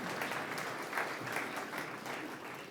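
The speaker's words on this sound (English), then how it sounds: "A round of applause for our first-timers, please." Steady applause from a conference audience, sustained clapping throughout with no talking, fairly even in loudness from start to finish.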